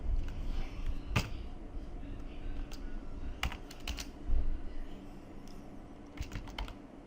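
Keys clatter on a computer keyboard in scattered bursts while MySQL is being set up with Python, several sharp clusters of taps over a steady low room hum, close and moderately loud, no talking.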